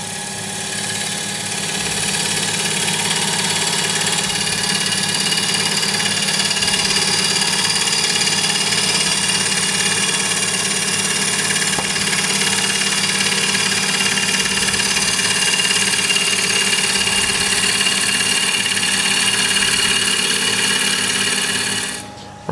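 A wood lathe turns a bowl while a 5/8 inch bowl gouge cuts from right to left, giving a steady motor hum with a tonal drone and faint scraping texture, constant from start to abrupt stop.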